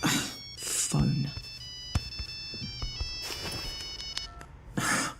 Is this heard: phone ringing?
yes